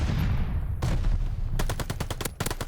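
An MP40 submachine gun fires in the Call of Duty Vanguard shooter. A single shot is followed by a fast, close, evenly spaced automatic burst, with a brief pause before a few more rapid rounds.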